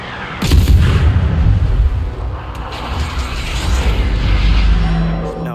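Naval guns of a Tier 2 German destroyer, the V-25, firing in World of Warships, with a sharp, loud opening blast that rolls into a long, rumbling, boomy tail, followed by further low, distant-sounding booms.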